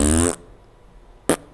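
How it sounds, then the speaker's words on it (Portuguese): A fart rips out loud and buzzy for a fraction of a second, followed by a near-silent pause and then a second brief, sharp burst. "Eu tento fragmentar o peido."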